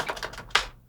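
Quick typing on a computer keyboard, a short run of four or five close, crisp key clicks with one louder final tap, heard alone.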